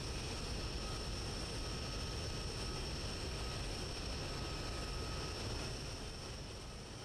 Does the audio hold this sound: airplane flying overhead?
yes